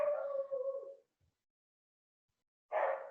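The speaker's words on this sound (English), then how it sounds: "You might hear my dog in the background." A dog howls and whimpers in a quiet room, a drawn-out tonal howl followed by a pause and then another wavering cry, moderately close but soft.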